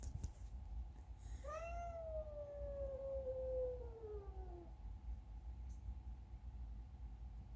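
A cat gives one long, drawn-out meow that slides downward in pitch, fairly quiet, against a low background rumble, with a brief faint click near the end.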